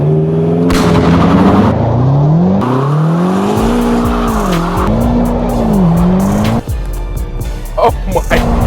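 Tyres of a BMW M8 Competition with 625 hp, switched to rear-wheel drive with traction control off, squeal loudly and continuously over a roaring engine, the shriek wavering in pitch for several seconds before fading.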